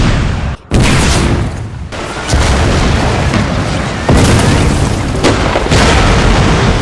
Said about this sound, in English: As the Union advanced, they came within range of Confederate artillery, which opened fire.